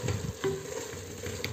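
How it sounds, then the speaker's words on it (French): Short scraping stir through a pot of meat and vegetables with tomato, with a soft sizzle underneath and a brief utensil knock near the middle, close and fairly quiet. "On mélange bien."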